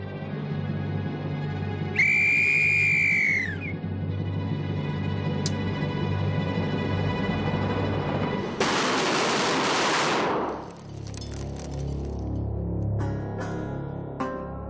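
Gun barrels test-fired in a proof blast, one loud, sudden explosive boom lasting about two seconds before it fades, preceded by a bright whistle tone and a low steady rumble.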